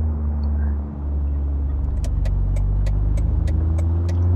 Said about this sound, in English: And this was a Scion FRS 2 liter sports coupe